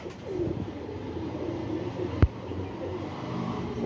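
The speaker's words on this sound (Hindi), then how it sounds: "कांटों वाले कबूतर सेबे वाले माशाल्लाह" Pigeons with spiky crests and ruffed feathers coo softly in a loft, low murmuring calls running through the background, broken by one sharp knock.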